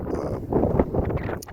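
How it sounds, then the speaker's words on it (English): Gusty wind blowing across an open hiking trail south of Tehachapi, a steady broad rushing roar that swells and buffets against the microphone for the whole short stretch, with no voices. "just from the noise of the wind, like blowing, like shearing against another"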